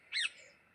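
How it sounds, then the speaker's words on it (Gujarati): A single short bird call at dawn near cotton fields where parrots and other birds are calling, one bright chirp lasting a fraction of a second, faint and fairly distant with no talk. "મસ્ત પોપટનો અવાજ આવે છે"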